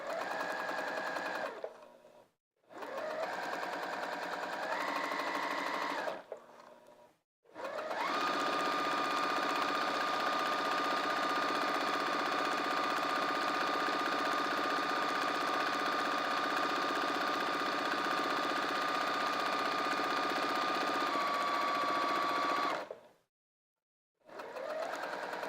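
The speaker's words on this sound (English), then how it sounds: "I'm not going to sew over my pins." A home sewing machine stitches fabric in several runs, its motor whirring steadily with a clear mechanical hum and brief pauses of silence between bursts, the longest run lasting about fifteen seconds.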